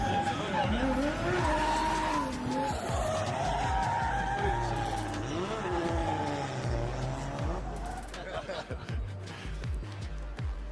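Toyota drift car on a qualification run at a D1GP Malaysia event, engine revving up and down with long tire squeals and skids, fairly distant, with a commentator talking over it.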